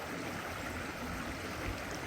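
River water flowing steadily in Scotland, a broad, even wash of stream noise with no clear splashes, close and continuous.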